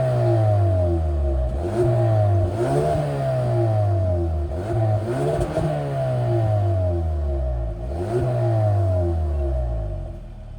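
Exhaust of a 2025 Hyundai Sonata N-Line revving in several repeated bursts, each climbing sharply and then dropping back to idle. Close and loud, with a rumbling, crackling tone and no talk.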